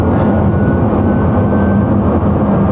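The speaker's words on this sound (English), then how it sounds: "And you can hear how quiet the car is." Lamborghini V12 hybrid cruising in electric EV mode, a steady loud wash of road and wind noise with a faint electric whine, no engine note and no talking.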